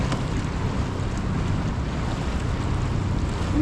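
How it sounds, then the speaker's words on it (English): The San Antonio River pouring over a dam along the river walk, a dense, steady broadband rush of water that stays loud and unbroken, with wind buffeting the microphone and no voices. "Now this river, the San Antonio, flows over the dam."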